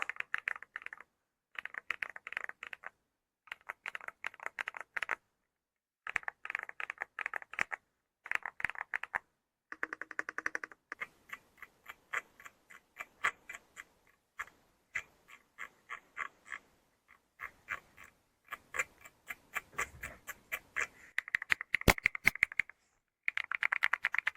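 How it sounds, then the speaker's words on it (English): Crisp clacking keystrokes on a mechanical keyboard come in quick bursts separated by short pauses, then a steadier run of individual key presses, close and fairly quiet. "Let's listen directly to the typing sound."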